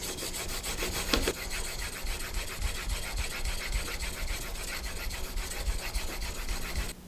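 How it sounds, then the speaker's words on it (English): A plane iron's primary bevel is honed on a 1000 grit sharpening stone, giving a steady, continuous rasping rub with repeated back-and-forth strokes, close and moderately loud, with no voices. "And now I'm going to keep it at the primary bevel still and move on to my 1000 stone."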